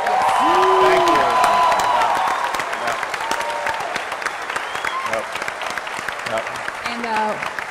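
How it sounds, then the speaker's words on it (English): Convention audience applauding and cheering for the Warframe development team, a dense, loud wave of clapping with whoops that gradually thins and fades toward the end. "give them a round of applause, please"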